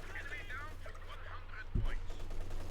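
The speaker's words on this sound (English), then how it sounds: "Katyusha firing again." Katyusha rocket artillery fires in Company of Heroes 2, a single low, heavy thump that lands partway through over a steady low battlefield rumble, with a voice talking over it.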